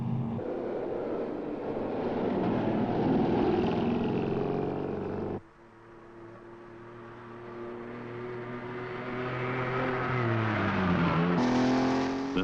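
Post-war car with a tiny overhead-valve engine driving, its engine droning close and steady before an abrupt cut, then rising again with climbing revs and a whining pitch toward the end.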